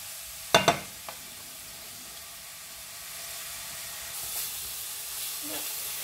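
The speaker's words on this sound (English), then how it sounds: "Here it's sizzling in the pan, and we just leave it, okay, just to brown the chicken" Chicken for fajitas sizzles in a frying pan with a steady soft hiss as it browns, after a couple of sharp clanks of utensils at the start.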